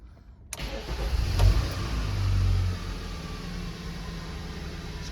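A car engine cranks and catches, a loud low rumble that swells briefly, then settles into a steady idle. The car has very low oil on the dipstick, and nobody talks.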